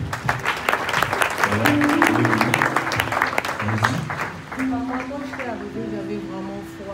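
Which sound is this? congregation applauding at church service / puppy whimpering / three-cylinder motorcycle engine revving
congregation applauding at church service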